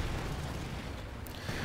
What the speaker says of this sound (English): We do see now zero-ring artillery coming down right here